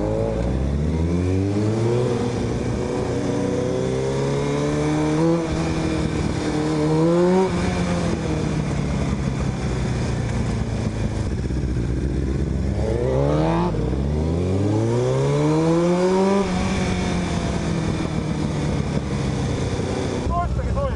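A Kawasaki motorcycle's engine revs repeatedly while riding, rising through the gears in loud, close sweeping climbs that drop and rise again, with a rider's voice occasionally over the engine noise.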